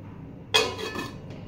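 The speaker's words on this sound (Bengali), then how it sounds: "আমার ডাল আর আলুটা সেদ্ধ হওয়ার জন্য আমি একটু চাপা দিয়ে দেবো।" A lid goes onto a pot of boiling lentils and potatoes with a single sharp metallic clink partway through, followed by a faint ringing tail and a soft later tap.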